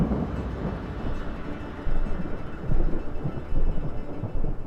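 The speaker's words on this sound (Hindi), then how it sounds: "आंधी तूफान सब एक साथ शुरू हो गया।" A sudden storm with strong gusting wind rumbles as steady broadband noise with swelling bursts, fairly loud and without voices.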